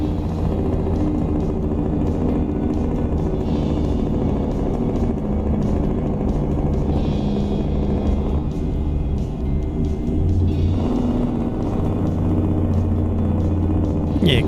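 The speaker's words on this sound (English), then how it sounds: "Yeah, quite a beefy Jake brake" A heavy truck's Jake brake in American Truck Simulator, a deep continuous engine rumble with a throaty chattering drone that holds steady and loud throughout, with no talk over it.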